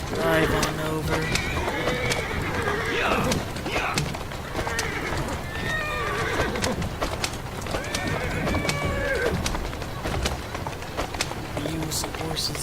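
Horses neigh and whinny amid steady clip-clopping hooves of a passing horse-drawn carriage in the video game Assassin's Creed Syndicate, with busy ambient noise and voices mixed throughout.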